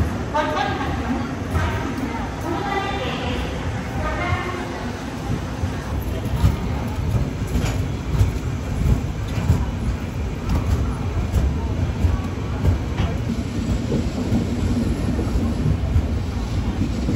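The Vaigai Superfast Express passenger train rumbles along between Madurai and Chennai with steady rattling and clacking of wheels on track, loud and close, with voices talking over the noise.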